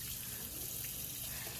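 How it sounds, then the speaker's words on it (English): Cold water runs steadily from a kitchen tap into a sink before rinsing a whole chicken, a continuous close hiss and splash with no breaks. "I'm gonna turn on the cold water and I'm just gonna put some cold water in there"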